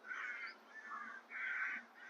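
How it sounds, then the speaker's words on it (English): Crows caw near a marina campsite, a few harsh drawn-out calls in a loose rhythm, moderately distant and alone with no talk. "I thought I quite liked the sound of crows, but actually this is driving me absolutely nutty"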